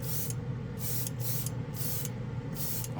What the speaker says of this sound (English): This is the side with the spray can.